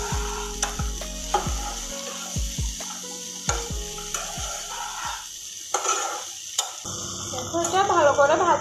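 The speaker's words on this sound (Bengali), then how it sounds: "এবার এগুলিকে আরো 5 মিনিট একটু ভালো করে" Potato and tomato pieces frying in a home kitchen pan, with repeated sharp clanks and scrapes of a spatula stirring over a soft sizzle, ending in louder, busier frying.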